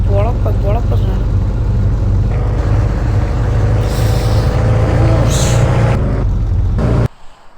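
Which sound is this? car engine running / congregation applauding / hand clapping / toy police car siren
car engine running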